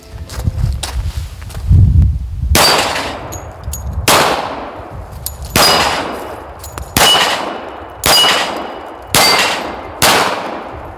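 Six loud, sharp pistol shots from a Tisas 1911A1 in .45-style US Army pattern, fired one-handed outdoors at an irregular pace, each crack trailing off into a ringing echo, with rustling handling noise before the first shot.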